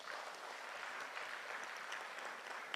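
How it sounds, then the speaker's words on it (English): A conference audience at an International Mother Language Day event applauds a presenter, producing a steady wash of many hands clapping at an even level, with no voices over it. "Let us give her a round of applause."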